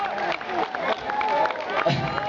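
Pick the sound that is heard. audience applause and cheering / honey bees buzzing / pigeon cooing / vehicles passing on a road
audience applause and cheering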